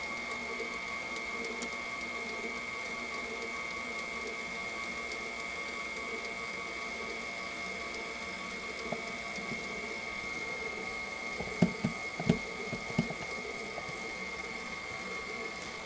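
Electric mixer with beaters turning in a bowl of orange fromage filling for a fruit tart, a faint steady whine and hum running throughout with a few soft knocks near the end.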